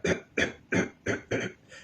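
A voice imitates throat clearing with five rhythmic, evenly spaced guttural rasps, close and fairly soft.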